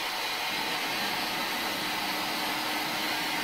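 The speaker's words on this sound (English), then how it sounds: "Heat shrink it down again with a gun." A heat gun blows steadily as it shrinks heat shrink tubing onto a braided audio interconnect cable, a constant close hiss and whoosh of air with no talking.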